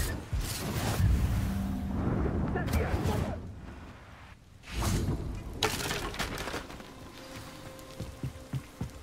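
A Confringo spell explosion in Hogwarts Legacy, heard as a loud crackling burst with scattered debris, fading into rumbling noise and then another sharp burst with sprinkling crackles, mixed with a voice.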